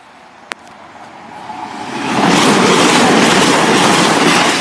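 A Class 220 diesel train, unit 220 009, passes a level crossing at Oddingley in Worcestershire. A faint rumble swells into a loud, steady roar of the train going by, with one sharp click near the start and no talking.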